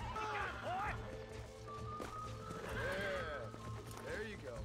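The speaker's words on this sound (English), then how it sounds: "Fucking taming a horse." Horse hooves clip-clop at a run with repeated whinnies in Red Dead Redemption on Xbox One, loud and continuous, with people talking over the game sound.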